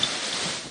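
Heavy monsoon downpour at night, a dense steady hiss of rain with no breaks, loud and close throughout.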